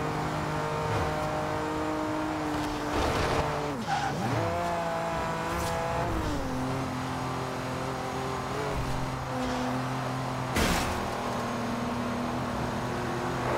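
A car in the Forza Horizon 2 racing game with the Top Gear Car Pack drives hard, its engine droning and shifting pitch while tires squeal through several skids, one sharp burst near the end.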